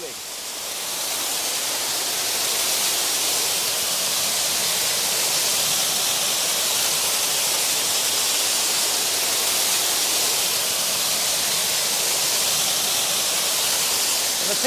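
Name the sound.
powerful water cascade falling in a Mediterranean garden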